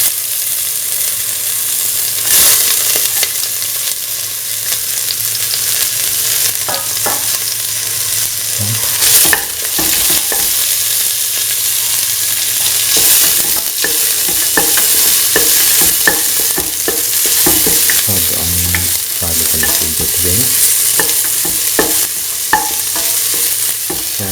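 Garlic and onion pieces sautéing in a pan, a loud steady sizzle running throughout with repeated spatula scrapes and knocks against the metal, and no one speaking.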